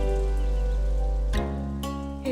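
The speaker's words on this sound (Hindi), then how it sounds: "हे भगवान, बरसात को भी आज ही शुरू होना था।" Steady rain falls in a continuous wash over a low background hum, with a couple of sharper splashy bursts near the end, moderately loud and without any talk.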